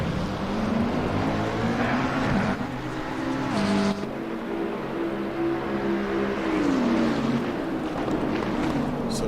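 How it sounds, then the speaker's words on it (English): A McLaren race car in a sim racing event at Spa-Francorchamps, its engine a steady, loud drone with gear shifts and rising, falling pitch as it runs through corners, continuous for the whole stretch. "There comes Ethan in his very, very nicely coloured McLaren."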